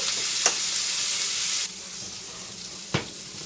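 Peppers and onions fry in a hot pan, a steady loud close sizzle that drops to a quieter hiss partway through, with a couple of brief clicks from stirring.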